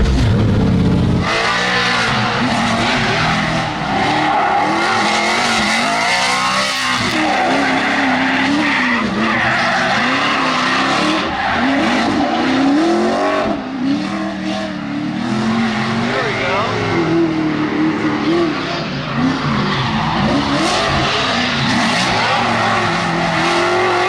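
An RTR Mustang RC car runs laps on a track at the Freedom Factory. Its motor whines loud and continuous with shifting pitch as it accelerates and slows, and tires skid and squeal through the turns.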